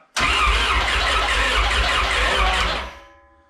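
A loud, steady car engine roar, a Honda F20B, runs for about three seconds, then cuts off and fades, leaving a faint ringing hum.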